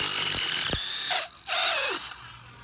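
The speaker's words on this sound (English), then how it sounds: "Impact wrench, not a drill, whatever." An impact wrench loosens the bottom brake caliper bolt on a 2005-2010 VW Jetta TDI MK5, giving a short loud rattling burst that stops, then a brief second whir close by, no talk.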